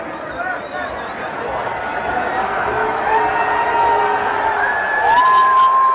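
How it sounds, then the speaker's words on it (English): A crowd at a 9/11 anniversary gathering cheers and shouts, with a rising roar of voices and whoops building toward the end, loud and close, with some chanting mixed in. "Chants of USA."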